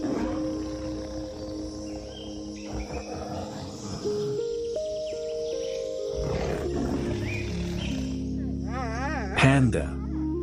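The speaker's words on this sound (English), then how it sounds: "Their powerful roar is so loud it can temporarily paralyze their startled prey." A tiger lets out a deep, rumbling roar that swells in the middle of a dense wild soundscape of insect chirring and tonal music, with a voice speaking over it and a sharp warbling cry near the end.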